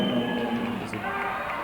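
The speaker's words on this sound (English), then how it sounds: "The crowd is going wild here, trying to help out their South Kitsap player." A high school wrestling crowd at a South Kitsap against Lincoln match cheers and roars steadily in a gym, a continuous wash of voices under a nearby commentator speaking.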